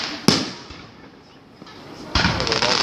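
Fireworks go off outdoors in Krefeld: one sharp, loud bang rings out early, followed after a quiet gap by a second burst with crackling tail. Voices are faint in the background.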